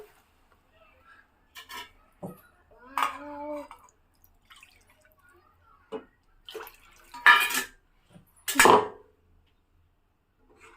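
Water rinsed out of a grinder jar is poured into a pot of egg curry. Scattered splashes and clinks of metal utensils come in short bursts with quiet gaps between them.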